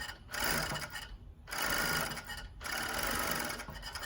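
A Jack W4 cover stitch machine runs through Lycra in three loud, close stitching runs separated by short pauses, steady and even, with no voices.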